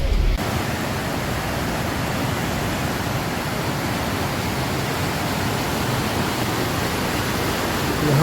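Swollen mountain river running in spate after heavy rain, a steady, loud broadband roar of rushing water that holds constant and close throughout with no voices.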